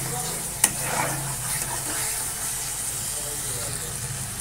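Chicken pieces sizzle steadily in hot oil in a pan in a home kitchen, a continuous close hiss with one sharp clatter near the start.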